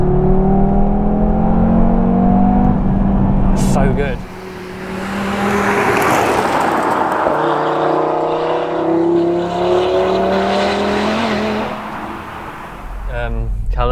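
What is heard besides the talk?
Audi TT RS engine revving and accelerating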